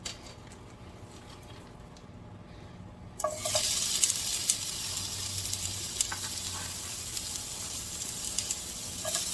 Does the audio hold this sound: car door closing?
no